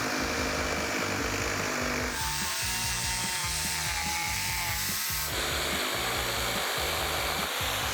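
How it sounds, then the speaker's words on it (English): A Wen jigsaw makes a 45-degree bevel cut through wood: a loud, close, steady rhythmic rasping buzz from the reciprocating blade, changing pitch partway through as the load on the cut shifts. "that's a hard cut to achieve, period, with a jigsaw"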